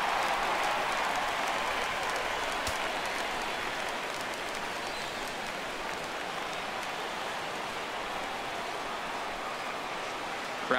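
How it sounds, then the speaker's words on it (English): Stadium crowd in MLB The Show 17 during a simulated Brewers vs Twins baseball game, a loud, steady roar of cheering that fills the whole stretch without break. "Crowd gets up for the 3-2."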